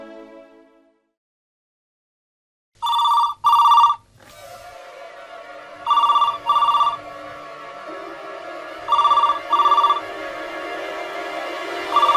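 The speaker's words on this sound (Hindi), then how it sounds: "फैक्ट्री में फोन भी नहीं उठा रहा है" A factory telephone rings unanswered, its electronic bell sounding in four paired bursts at regular intervals over a faint, low background.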